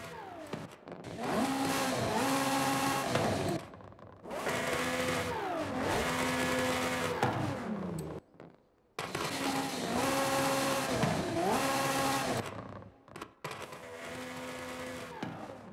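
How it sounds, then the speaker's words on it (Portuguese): Ferrari F40 fitted with a swapped engine in Forza Horizon 5 revving hard in repeated loud bursts that climb and fall in pitch, broken by short silent gaps between runs, with no talking. "Parece que o barulho do novo motor fica bem mais bonito."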